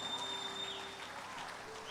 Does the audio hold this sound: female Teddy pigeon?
no